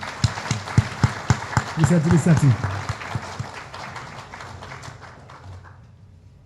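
An audience applauds at the official launch ceremony of a Haitian police managers' association, with a burst of clapping that fades over several seconds while someone speaks French over and after it.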